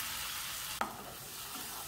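Homemade tomato pizza sauce with garlic and tomato puree sizzles in a pan while being stirred, a steady frying hiss with one brief sharp scrape of the utensil midway.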